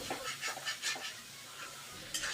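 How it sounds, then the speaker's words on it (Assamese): A spatula stirs mutton curry in a pot, giving a run of scraping, clattering strokes in a loose rhythm, close and moderately loud with no talking. "5 মিনিটৰ পিছত মই ঢাকনিখন গুচাই মাংসখিনি হেতাৰে পুনৰ ভালদৰে লৰাই দিছোঁ"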